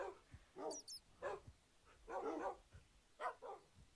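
A puppy in the Minecraft video game gives several faint, small barks and yips in an uneven sequence, with no talking over them.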